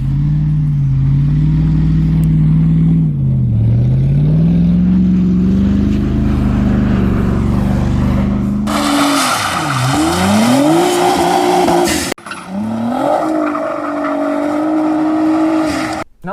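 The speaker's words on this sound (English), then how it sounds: "This is obviously a rear-wheel drive car, so it's very, very easy to get the tail to step out on you." Rear-wheel drive car drifting, its engine droning and revving up and down while the tires squeal loudly in long sustained howls, close and continuous.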